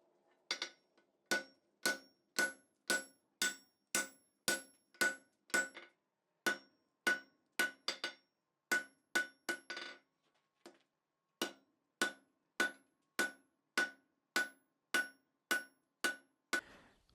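A blacksmith hammers the end of a steel bar to upset it. Sharp, ringing blows fall in a steady rhythm, about thirty strikes in two runs split by a short pause.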